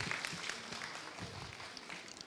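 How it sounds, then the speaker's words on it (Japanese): Audience at a Tohoku University science café clapping together, a soft, fairly distant patter of many hands that holds steady for a couple of seconds. "はい、拍手。"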